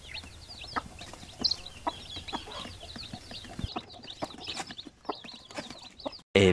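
Newly hatched pure Basilan chicks peep in quick, high, repeated chirps, close and fairly faint, with occasional soft knocks and rustles.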